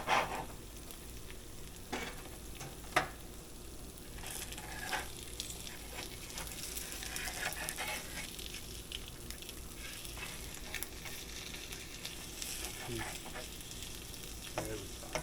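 Copycat McGriddle pancake batter cooks on a griddle with a soft, continuous sizzle over a long stretch, broken by a few sharp taps and clicks of a utensil near the start.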